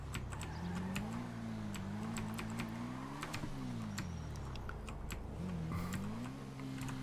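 A motorcycle engine in the GTA V video game revving up and down in rising and falling sweeps, steady and moderately loud, with clicks of typing over it.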